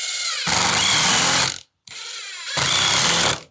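A power drill drives a screw back into wood during a woodworking repair, two sustained whirring runs of about a second each separated by a short pause, loud and close with no talking.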